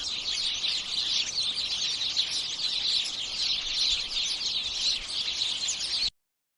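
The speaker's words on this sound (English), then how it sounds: "Sparrow." A sparrow chirps in a steady, dense twitter of high tweets that runs without a break for about six seconds and then cuts off abruptly.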